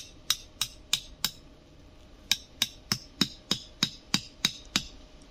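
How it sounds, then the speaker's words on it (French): A small hammer head on a multi-tool drives a tent stake into the ground with sharp, close metallic strikes: four evenly spaced blows, a short pause, then a faster run of about nine more. "d'abord je vais planter mon piquet, j'ai vu qu'il y a un petit bout de marteau au bout"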